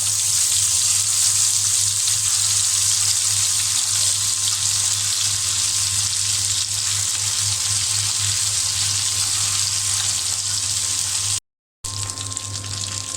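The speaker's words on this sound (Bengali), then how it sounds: "তো এখানে তেল গরম হয়ে গিয়েছে, আমি এখন শিং মাছ দিয়ে দিলাম, ভেজে নেব।" Shing fish fry in hot oil with a steady, loud sizzling hiss that carries on without a break, under a low electrical hum. Near the end the sound cuts out briefly, then resumes.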